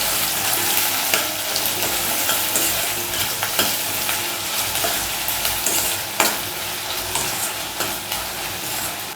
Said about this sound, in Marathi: आता हा कांदा छान मऊ होईपर्यंत आपण फ्राय करून घेऊया.